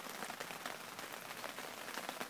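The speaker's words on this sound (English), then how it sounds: "It's raining" Rain falls outdoors on a gloomy New Year's Day hunting outing, a steady dense patter of drops on surfaces with nobody speaking.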